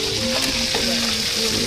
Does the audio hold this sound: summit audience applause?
no